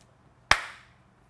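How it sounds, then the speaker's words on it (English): A single sharp hand clap rings out once, loud and close, with a short fading tail, on an otherwise quiet background. "Can I get a clap, please?"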